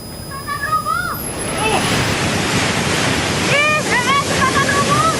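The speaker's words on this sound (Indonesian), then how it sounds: "Sungai Cikaret meluap dan menerjang permukiman warga di Bogor, Jawa Barat" The flooded Cikaret river rushes through a neighborhood in Bogor, West Java, a loud continuous roar of churning water. Faint whistling tones and voices sit in the background.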